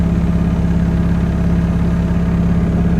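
A Mk2 Scirocco with a 1.8T 20v engine idles at about 1000 rpm, a close, even, steady burble with a fast regular pulse and no talk.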